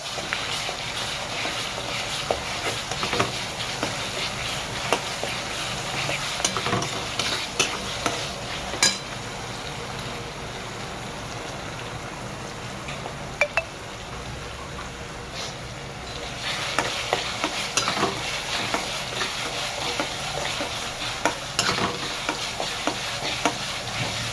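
Konkani onion and coconut goda masala is dry-roasted in a pan, with repeated scraping stirs over a soft continuous sizzle, the spoon strokes coming in uneven bursts at moderate loudness.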